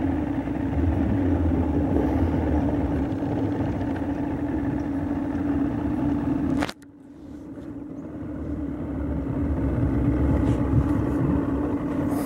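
A boat motor runs steadily and loudly with a strong low hum, then briefly cuts out or drops at one point before building back up to a continuous drone.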